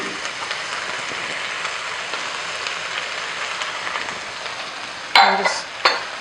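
Diced red onion sautes in olive oil in a pan, giving a steady soft sizzle and crackle throughout, with a couple of louder clatters near the end.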